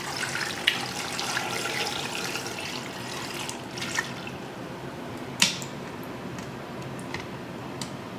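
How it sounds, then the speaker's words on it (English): Water pours steadily into a pressure cooker over potatoes, a soft continuous splashing wash with a few sharp ticks and drips as the pot fills. "We're going to cover them with some water."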